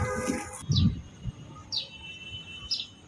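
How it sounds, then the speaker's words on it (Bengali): A house sparrow gives a few short, sharp chirps at a steady interval, fairly near and clear against a quiet outdoor background with light low rumbles. "চড়ুই পাখিটার গলায় অনেক জোর শোনা যাচ্ছে তোমরা শুনতে পাচ্ছ"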